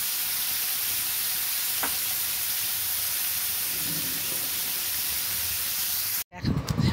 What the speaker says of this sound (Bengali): তেলেই আমি পনিরটা ছেড়ে দিচ্ছি। পনিরটা আমি হালকা ভেজে নেব।